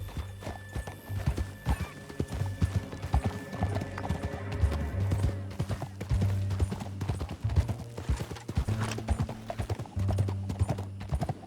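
Horse hooves gallop in a steady, driving clip-clop rhythm in Red Dead Redemption 2, loud and close throughout, with a low rumble, occasional whinnies and faint distant gunfire mixed in.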